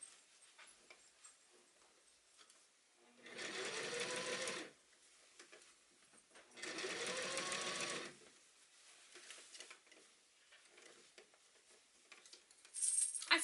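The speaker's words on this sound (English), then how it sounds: "And I just want you to sew along this opening." A sewing machine stitching around the sleeve opening of a suit coat while it is shortened, running in two separate bursts of about a second and a half each, close and steady, with quiet pauses between.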